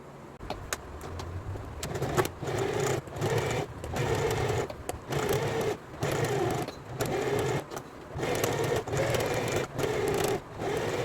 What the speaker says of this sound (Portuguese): E agora eu vou lá na máquina e vou passar um pesponto.